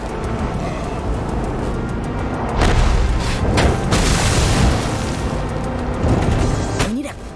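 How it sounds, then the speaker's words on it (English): An explosion in the video game Far Cry 5, set off as a car hits a jump at a construction site. It comes as a loud booming burst among continuous rumbling game noise, with a further sharp hit near the end. "Our hero hits the jump and wham! There's an explosion!"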